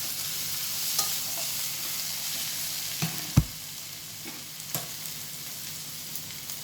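Kudli with coconut fries gently in a pan over low heat, a soft continuous sizzle punctuated by a few sharp scrapes and taps of a spatula stirring, close and moderate.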